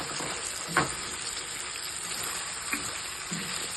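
Diced onions sizzle steadily with meat in a hot pan, a continuous close frying hiss broken by a few soft clicks of stirring.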